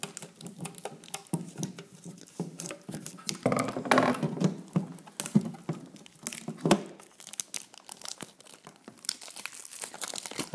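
Crinkling plastic and cardboard packaging as a Pokémon Groudon Pokébox is opened, with close, irregular rustles, crackles and tearing bursts that come and go in uneven patter.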